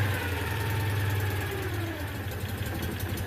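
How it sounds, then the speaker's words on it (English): A Citroen 2CV engine idles on a cold day with a steady low, slightly uneven chug, close and continuous throughout. "Let's go listen to the engine."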